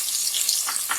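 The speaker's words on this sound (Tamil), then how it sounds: "அதனால நல்ல கோல்டன் ப்ரௌன் ஆகிறது வரைக்கும் வதக்கி விட்டுக்கலாங்க" Onions sautéing in ghee and vegetable oil for ghee rice, a steady close broadband sizzle with a couple of brief stirring scrapes near the end.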